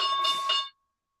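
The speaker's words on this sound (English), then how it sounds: "There's the bell." Stock market opening bell rings in a short, bright, clear burst that is heard alone and then cuts off into silence.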